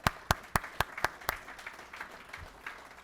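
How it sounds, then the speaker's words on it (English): Audience applause at a corporate speaking event, a short burst of sharp, distinct claps that thins out and fades over a few seconds, with no speech over it. "Give them a round of applause."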